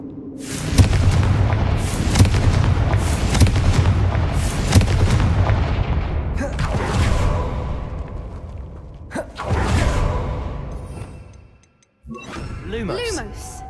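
Confringo blasting spells explode in Hogwarts Legacy: several loud, booming blasts burst at irregular intervals over a steady game soundscape, with a brief drop to near silence toward the end.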